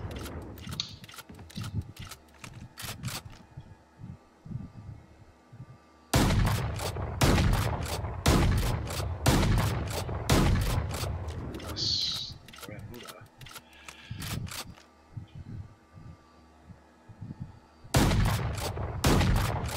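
Rapid bursts of gunfire from a weapon in a video game, fired crouched and stationary, come in repeated volleys of sharp close shots with short pauses between, someone talking over and between the bursts.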